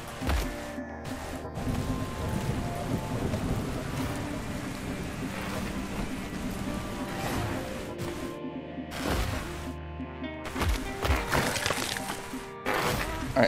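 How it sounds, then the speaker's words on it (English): A rainstorm rages in the video game ARK, a dense steady patter of rain with bursts of louder crackling and rumble, close and continuous for the whole stretch, with no one talking. "Storm's pretty loud."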